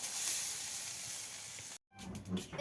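Vegetables, including fig (dumur), sizzle steadily in a hot pan with a broad hiss, then cut briefly to silence before a slightly different, uneven frying sizzle resumes.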